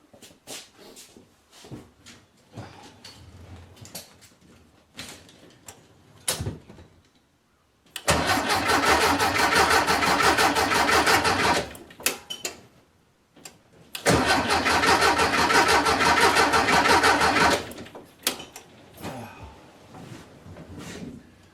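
A VW engine fitted with a new Pertronix distributor cranks in two long, loud bursts of about six and four seconds, separated by quiet gaps, with brief clicks and handling noises around them and no steady running.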